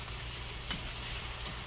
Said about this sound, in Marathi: एकदम चुरचुर चुरचुर आवाज पण येत आहे